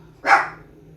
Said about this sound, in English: I'm distracted by my dogs barking.